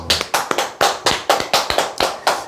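A small group clapping at a Korean sales coaching session, about nine sharp, evenly spaced claps ringing out close and loud with nothing else heard.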